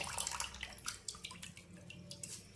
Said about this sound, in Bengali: সব জলটা এইভাবে চেপে চেপে নিচুড়ে নিতে হবে।